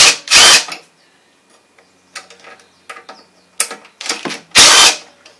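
A 3/8 ratchet wrench loosens the carburetor on an old Craftsman engine that sat outside for years, heard as sharp, close clicking bursts separated by quiet pauses and softer metal handling.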